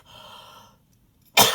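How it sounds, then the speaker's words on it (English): A single sharp cough bursts out loudly at the end, after a faint breathy sound and a short silence. "I'm going to cough again."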